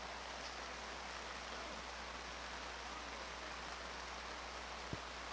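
Rain falls steadily on an outdoor football field during a flag football game, a faint, even hiss of water with no voices and one brief click near the end.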